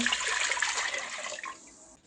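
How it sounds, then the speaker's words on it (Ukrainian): Water pours steadily into a large pot with a hissing, rushing flow that tapers off and stops near the end. "велику каструлю беремо так, наливаємо воду"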